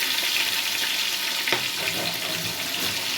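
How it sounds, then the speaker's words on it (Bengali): Fish coated with turmeric frying in hot oil, a loud dense continuous sizzle that stays close and steady throughout, with a brief scrape partway. "আমি হালকা করে মাছটা ভেজে নিব হলুদ দিয়ে।"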